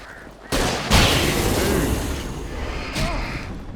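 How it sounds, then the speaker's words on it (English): A flare gun fires in the video game Alan Wake, a loud burst followed by a sustained hissing roar, with a second sharp report near the end. "just go straight with the flare gun"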